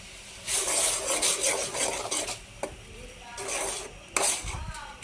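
Noodles and their seasoning powder being stirred in a cooking pan with a spoon, giving repeated close scraping and rubbing strokes with metallic clinks, including a sharper knock near the end.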